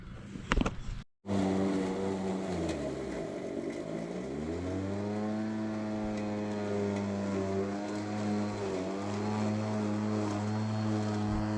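A Mowrator S1 electric lawn mower on a 5-inch setting cuts through tall, overgrown grass, its motor a steady droning hum that shifts pitch as the load changes, loud and continuous after a brief handling thump at the start.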